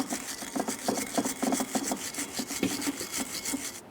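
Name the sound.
wire brush cleaning Toyota Sienna brake caliper bracket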